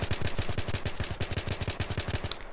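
AN94 rifle in Battlefield 3 firing a rapid, controlled burst of about twenty evenly spaced shots, loud and sharp with a steady rhythm, ending abruptly with no talking.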